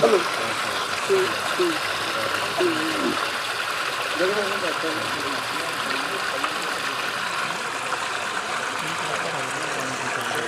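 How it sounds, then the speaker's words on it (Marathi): A 5 HP water pump motor runs steadily while water gushes forcefully, forming a constant broadband rush with a faint engine hum beneath, overlaid by a person speaking throughout. "आता ही पाच एच पीची मोटर आहे ती एक एच पीची मोटर आहे ती मोटर सकाळपासून चालू आहे"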